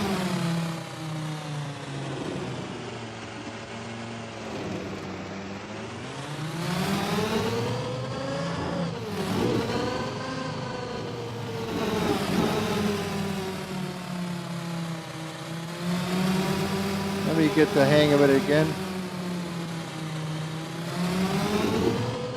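A turbocharged car engine revving and accelerating through repeated rising and falling pitch sweeps, loud and close and building in intensity, with someone speaking briefly over it.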